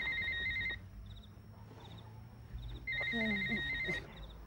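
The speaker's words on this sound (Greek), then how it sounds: "Το κινητό σου." A mobile phone rings with repeated bursts of a high electronic chirping tone, fairly faint and close, with a brief voice heard near the end.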